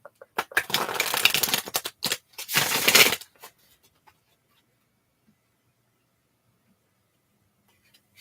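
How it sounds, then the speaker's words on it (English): A deck of cards is shuffled in close, crisp bursts of riffling, two main runs followed by a few soft taps, then silence. "I'm definitely shuffling the cards a lot today."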